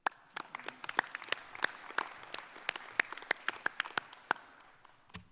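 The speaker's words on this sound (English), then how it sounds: "Let's give ourselves a round of applause." Nursing graduates at a graduation ceremony give a round of applause, with scattered, fairly sparse hand claps at close range, irregular and loosely rhythmic, lasting about five seconds with no talk over them.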